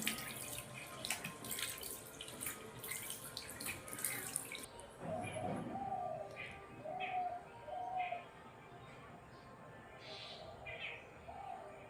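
Plain tap water runs and splashes as skin is rinsed after an aloe vera gel treatment, a brisk spatter that stops partway, followed by quieter room sound with a few soft cooing calls in the background.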